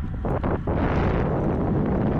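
Wind buffets a small action camera's microphone while riding a bicycle beside the sea, a loud continuous rushing roar with gusty surges throughout. No one speaks.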